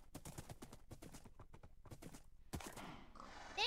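Hooves of a horse in a video game clip-clop in a quick steady rhythm, then a louder burst of whinnying and movement near the end.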